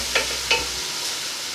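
Leeks and potatoes sautéing in oil in a pan for vegan leek and potato soup, with two short scraping stirs near the start over a soft, steady sizzle that continues alone and close.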